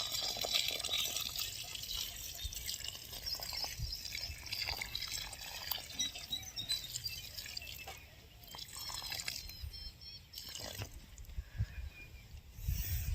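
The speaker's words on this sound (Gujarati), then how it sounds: "અહીંયા એને પાણી નાખી દઈએ" Water poured onto a newly planted bael sapling on a farm, a faint continuous outdoor splashing and trickling with scattered drips, steady throughout.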